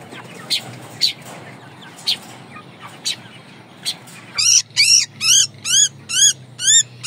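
Large birds in a coop, kept alongside giant Indio chickens, give a run of about eight loud, evenly spaced harsh calls close by, after a quieter stretch of scattered faint cries.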